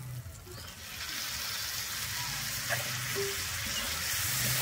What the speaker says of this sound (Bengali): এরপরে আমি দিয়ে দিচ্ছি ওই ফেভারিট জিনিসটা, খাসির চর্বি